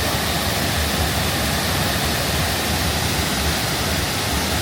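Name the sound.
water pouring over concrete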